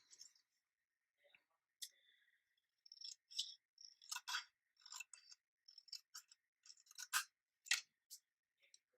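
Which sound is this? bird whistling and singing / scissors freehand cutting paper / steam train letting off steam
scissors freehand cutting paper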